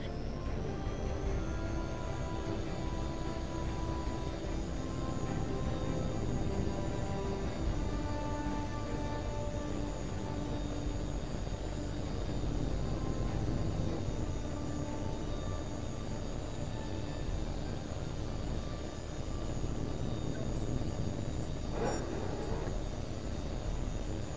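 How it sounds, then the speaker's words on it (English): Jet aircraft engines roar steadily with a sustained tonal whine during takeoff in the combat flight game H.A.W.X 2, a loud continuous rumble that holds throughout with no talking. "You're clear for takeoff."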